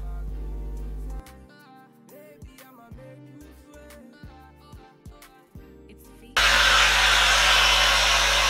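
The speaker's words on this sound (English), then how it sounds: "Let's see how it works with diffuser." A hair dryer fitted with a diffuser, drying curly hair, switches on loud and near after a stretch of quiet music, then blows with a steady whoosh.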